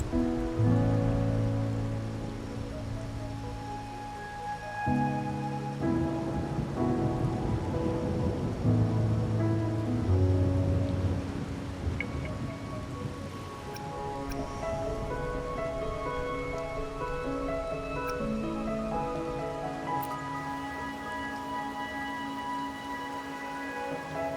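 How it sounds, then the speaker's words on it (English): Rain falling during a Wuthering Waves cutscene, a soft steady patter under sustained music tones and chords, faint and continuous throughout. "Or are you simply passing the time until the rain ends?"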